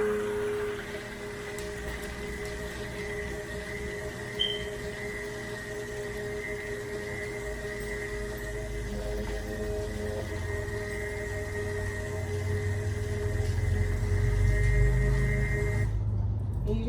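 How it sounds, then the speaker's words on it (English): An immersion blender whirs through a milk and lye mixture poured into olive oil for castile soap. It makes a steady, close motor hum that runs unbroken and grows slightly louder and heavier toward the end. "Take my emulsifying blender and start blending."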